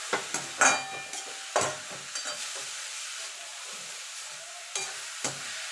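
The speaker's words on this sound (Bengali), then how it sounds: "এবার নেড়ে দেবো।" A vegetable chop mixture frying in a pan and being stirred, with soft sizzling under scattered scraping clinks of the spatula against the pan, a few sharper knocks standing out.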